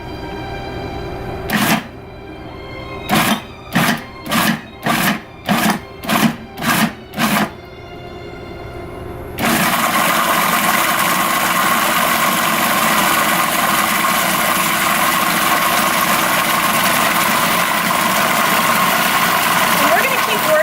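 Food processor pulsing Lebanese garlic spread: about eight short, sharp bursts in quick succession, then the motor runs continuously at a steady, loud whir.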